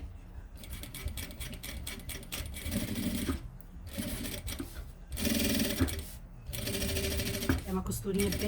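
A sewing machine topstitches close to the edge of a luxury fabric toiletry bag. The stitching comes in close, rapid mechanical bursts broken by short pauses, then resumes in several separate runs.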